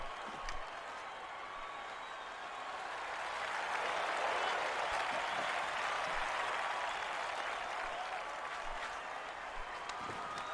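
Applause from a hockey arena crowd, a steady broad wash of many hands clapping that swells in the middle and stays sustained, with faint chatter nearby.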